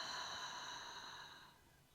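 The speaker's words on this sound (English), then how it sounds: "breathing all the way through your rib cage" A soft, slow exhale during a breathing exercise, one long breathy breath that fades away toward the end, quiet and close.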